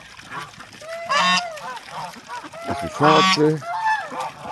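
Geese and ducks bathing on the water at a farm, loud close honking calls in two bursts amid splashing, with a voice talking in between.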